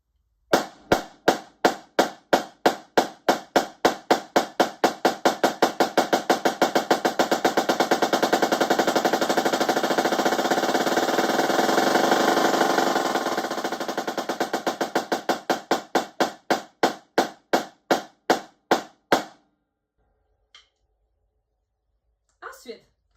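A Yamaha drumline snare plays a rudiment of single strokes that start slow and evenly spaced, speed up into a dense continuous roll, then slow again and stop, with a few faint taps after.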